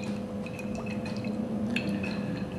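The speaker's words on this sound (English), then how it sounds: "So a little olive oil in our pan." Olive oil pours into a pan in a kitchen, a soft liquid trickle with faint drips over a steady background hum, without any voices.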